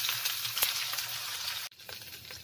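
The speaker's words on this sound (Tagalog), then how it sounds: "Igisa din po natin ang ating alamang." Shrimp paste (alamang) sautéing in oil rendered from chicken skin, a steady bright sizzle and crackle for most of the clip that drops off abruptly near the end, leaving quieter spitting; no talking.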